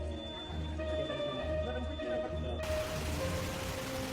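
Heavy rain from Cyclone Dana pours down around Barcelona, a dense, constant hiss that grows louder and brighter partway through, with a low rumble beneath it.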